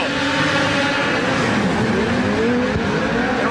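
Several snowmobile engines roar and rev together at high pitch at a snocross race start, a dense, loud, continuous whine rising and shifting as the machines power up.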